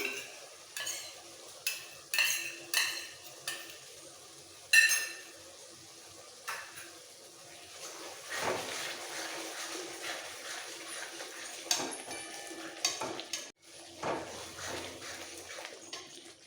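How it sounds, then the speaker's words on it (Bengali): Spice paste and ground cumin paste are stir-fried in a pan, with metal spoon scrapes and clinks against the pan over a soft, steady sizzle that swells in the middle. "মশলাটা কষাতে কষাতে দিয়ে দেবো গোটা জিরে বাটা"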